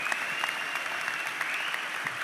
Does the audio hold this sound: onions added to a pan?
no